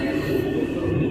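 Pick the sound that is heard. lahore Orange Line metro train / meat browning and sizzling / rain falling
lahore Orange Line metro train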